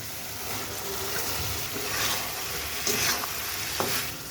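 Fried kharkan made with jackfruit seeds and dried kachki fish is poured into a pan and stirred. A close, steady sizzle carries scattered scraping stir sounds.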